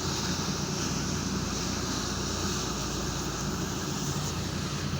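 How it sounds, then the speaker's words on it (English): A giant water pump at Gloucester Docks draws water from the River Severn, making a constant, loud broadband roar and rush with no break, like heavy machinery and rushing water heard close up outdoors. "that pump is pumping water from the River Severn"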